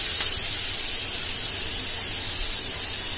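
Grated carrots (five to six) sautéing in hot ghee for carrot halwa, a loud, steady sizzle and hiss close by, with no talk over it.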